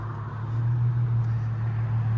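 Exhaust of a 2007 Infiniti G35 with a 3.5L V6 and Flowmaster Flow FX muffler, a steady low rumble at idle that swells slightly and holds, close and continuous with no voices.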